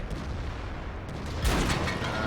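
A tank cannon fires in World of Tanks, a single heavy boom with a roaring blast tail standing out over rumbling engine noise.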